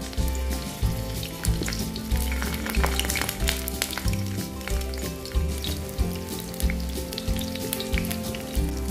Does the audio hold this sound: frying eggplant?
yes